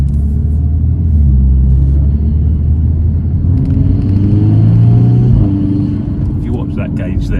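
A VW Scirocco R fitted with a Revo induction kit drives along, its engine a deep, loud, steady rumble that climbs in pitch as it accelerates, with turbo intake noise, heard from inside the car while people talk.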